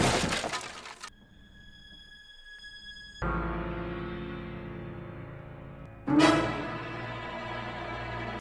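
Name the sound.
car crashing into nativity scene, shattering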